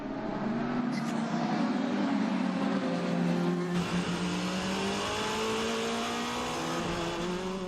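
Porsche and Toyota endurance race cars in a 2017 FIA WEC race, engines roaring loud and close with a sustained high whine that rises and shifts as the cars pass, no voices over it.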